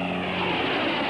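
A Lockheed XH-51A compound helicopter with a wing and jet engine flies past, a loud, continuous broadband engine roar with a steady droning hum, close and filling the whole short stretch with no talk.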